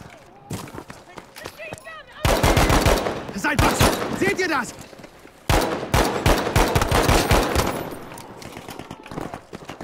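Rapid bursts of M1A1 carbine fire in Battlefield 5, loud sharp shots in quick succession with chaotic battle noise and other gunfire, while a voice talks over the shooting.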